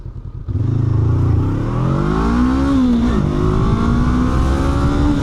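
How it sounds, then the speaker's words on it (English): A 2025 Honda CB500F motorcycle engine revs up loud and close with rising pitch through gear changes, held steady under strong acceleration without any voices. "I'll come up to an acceleration up here and then I'll slam on the brakes"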